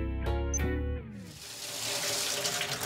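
Water gushes from a kitchen tap at a high flow rate. A hard-edged tonal start gives way to a steady, hissing splash that runs throughout.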